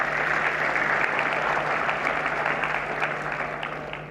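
Audience applause at the Pariksha Par Charcha event, a sustained, dense clapping from a large crowd that holds loud and steady before easing off slightly toward the end.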